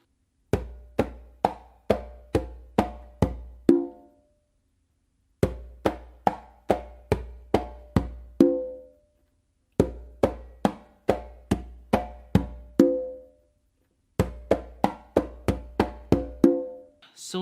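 Conga tumbao pattern played by hand, mixing bass tones, palm slaps and open tones in four fast repeating phrases of about eight strokes each, close and crisp, separated by brief pauses, no talk.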